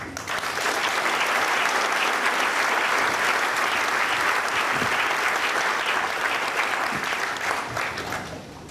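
Sustained applause from a conference audience welcoming a former company executive onto the stage, dense and steady clapping that fills the room at full volume without a break, then tapering slightly at the end.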